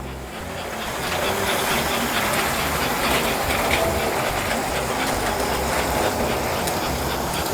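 A model train runs steadily, a continuous rumbling clatter of wheels on track that stays loud and even throughout with no talking.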